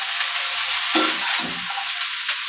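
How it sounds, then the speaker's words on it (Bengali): Mixed vegetables and cabbage frying together in a pan for chow mein, a loud, continuous sizzle with a couple of brief stirring scrapes and no talking. "সব সবজি আমি একসঙ্গে ভেজে নিলাম।"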